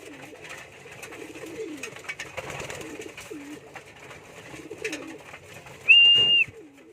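Pigeons coo softly in a loft, low repeated rolling calls near at hand, with rustling and a brief high whistle-like squeak toward the end.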